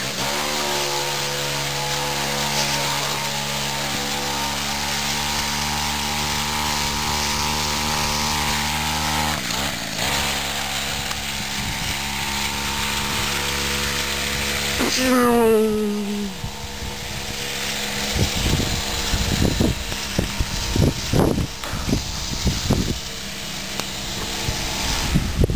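A bicycle powered by a small two-stroke weed eater engine runs loud and buzzing at a steady high idle, then revs and sputters as the pitch drops, followed by choppy uneven bursts as it labors.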